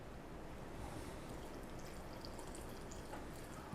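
Salt-water brine pours slowly into a jar packed with jalapeños for fermenting, a steady close trickle and gurgle of liquid with no talking.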